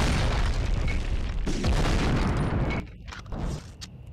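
A rocket launcher blast in the PS1 game Medal of Honor, set in a V2 rocket plant: a loud, dense roar of explosion and gunfire-like noise that drops off sharply near the end, leaving fainter scattered bursts.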